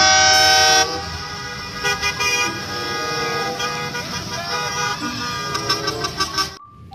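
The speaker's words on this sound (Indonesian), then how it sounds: "Mobil bus sekolah, teman-teman." Honking from a toy school bus: a loud electronic horn blast opens, followed by a steady tone with a string of short toots.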